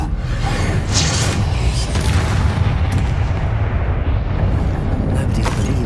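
Fiery Confringo blasts from combat in Hogwarts Legacy, a dense run of loud, booming bursts and rumbling impacts that fill the whole stretch with little letup.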